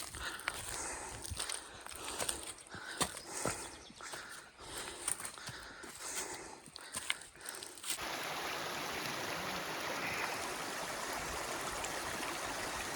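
Mountain stream flowing beside a hiking trail near Sarhan, a constant rushing wash; in the first part, crunching footsteps and knocks on the path sound over it before the water continues alone.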